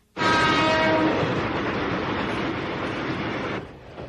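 A Japanese commuter train rumbles past loudly and steadily, with a long horn tone near the start, then the noise cuts off abruptly near the end, in an animated film.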